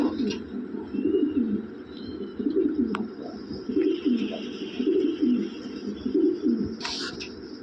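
Several Lahore pigeons coo close by in repeated soft, throaty bursts, with a few thin bird chirps scattered over the top.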